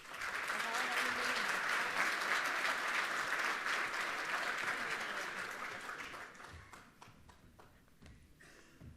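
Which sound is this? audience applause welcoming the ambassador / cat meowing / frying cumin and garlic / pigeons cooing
audience applause welcoming the ambassador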